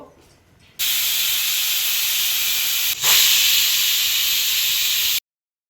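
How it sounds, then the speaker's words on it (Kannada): A pressure cooker cooking sambar vents a loud, steady hiss of escaping steam that holds for several seconds and swells briefly midway before cutting off abruptly. "ಸೊ ಇದು 2 ವಿಷಲ್ ಬರೋವರೆಗೂ ವೆಯ್ಟ್ ಮಾಡ್ಬೇಕು ನಾವು."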